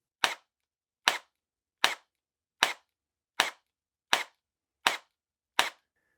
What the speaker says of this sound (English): If you don't pull too rapidly in single fire mode, it seems to shoot every single time.